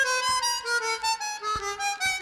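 Chromatic harmonica played with tongue switching in alternating octaves, a steady pulsing stream of rapidly alternating reedy tones, close and continuous without pauses.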